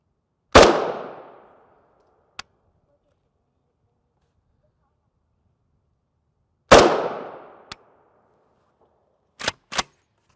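Rifle shots fired at a UHMWPE Level III+ ballistic plate outdoors: two loud, sharp cracks about six seconds apart, each with a decaying echo tail, followed by fainter metallic clicks and snaps.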